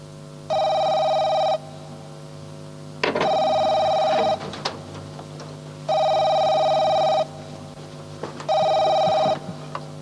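An old-style telephone bell rings loudly indoors in four long bursts with short gaps, a clattering handling noise between the second and third rings.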